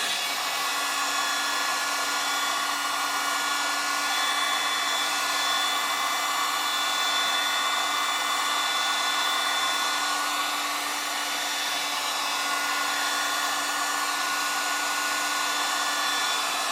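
Very hot heat gun, around 500 degrees Celsius, roars steadily while drying a car pedal cover area, a constant close whooshing hum with no breaks.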